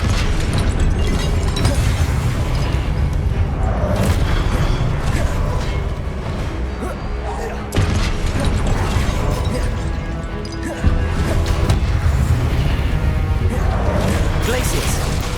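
Hogwarts Legacy Confringo fire spell explosions in a battle, loud booming blasts and crashing debris over a constant dense rumble of combat effects, with voices calling out spells.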